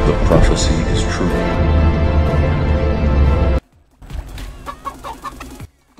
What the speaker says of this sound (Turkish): Bir de tavuk da oldum